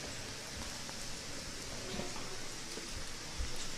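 Steady rain falling outdoors, a continuous broadband hiss of drops with occasional faint patters and soft thuds, even and constant throughout with no talking.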